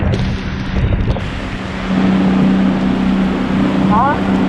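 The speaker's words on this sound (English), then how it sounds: "The wind's gonna take us out of direction." Wind gusting over a boat caught in a Florida storm, a steady broadband roar with engine-like low rumble underneath, growing stronger midway, while people talk faintly over it.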